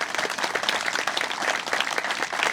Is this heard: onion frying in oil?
no